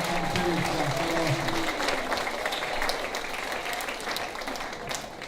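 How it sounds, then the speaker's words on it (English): Steady applause from an audience fills a school awards ceremony, many hands clapping together at moderate distance, holding for several seconds before easing off slightly. "How about a round of applause for our custodial and our cafeteria staff?"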